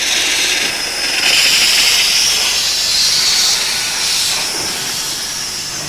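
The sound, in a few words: old steam engine hissing steam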